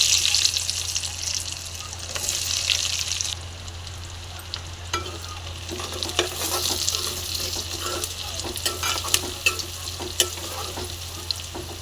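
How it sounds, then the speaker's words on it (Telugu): Onions frying in oil for a boiled egg curry, with a continuous sizzle under scraping stirs and a few sharp clinks of the utensil against the pan, and no one speaking. "ఆనియన్స్ని కాస్త ఫ్రై అవ్వనివ్వాలి"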